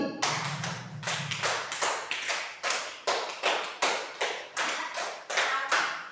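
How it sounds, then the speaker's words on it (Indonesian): A school class claps out a rhythm together, five claps done three times, producing a sharp, evenly spaced run of group claps in short patterned bursts at close range. "Satu lagi, tepuk 5 3 kali."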